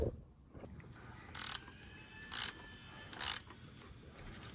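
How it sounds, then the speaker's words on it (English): A ratchet tightens a part during an oil change on a third-generation Toyota Tacoma, giving three short bursts of clicking at an even pace against a faint, quiet background. "we got to get the tool back out so that we can tighten this"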